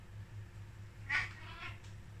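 A house cat meows softly at a distance, with one main drawn-out meow followed by a weaker second call over a low steady hum.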